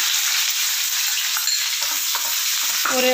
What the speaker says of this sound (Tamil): இதெல்லாம் பொரியும் போது இந்த ஆனியன் போட்டுப்போம்